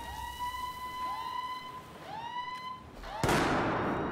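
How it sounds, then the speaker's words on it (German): A flashbang grenade goes off in Battlefield 4 on PS4 with a sudden loud burst. Descending whining tones come before it, and a sustained ringing hiss follows, with a player speaking nearby. "Blendgranate"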